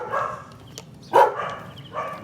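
Dogs on an outdoor basketball court give a few short barks and yips, fairly close, with one louder bark in the middle and softer ones around it.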